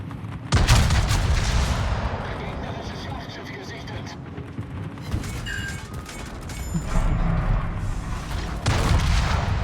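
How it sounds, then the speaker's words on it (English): World of Warships gameplay with a Bismarck battleship firing its front guns: heavy booming salvos and mechanical clanks over a dense rumble of battle, with a voice talking throughout. "we smash them with the front guns as well"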